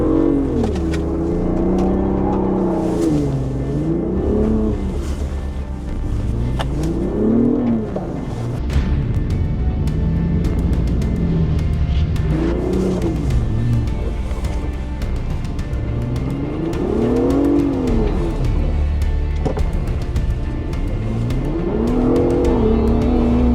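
A Ford Bronco Raptor with traction control off revs hard and spins its tyres in snow, the engine note rising and falling in repeated surging waves, loud and close throughout with no talking.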